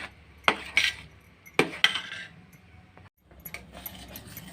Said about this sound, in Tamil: அடிப்பிடிக்காமல் இப்படி கிளறினே இருக்கணும்